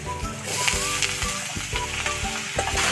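Greens tossed into hot fish oil with onion, dried chili and five-spice in an Assamese kitchen, giving a steady close sizzle and frying crackle with stirring scrapes throughout, no talking.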